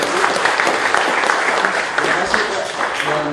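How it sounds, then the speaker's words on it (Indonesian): Audience at an official reception in Jakarta applauds the deputy governor, dense sustained clapping from a roomful of people, loud and continuous with a murmur of voices underneath. "Kita beri aplaus untuk beliau."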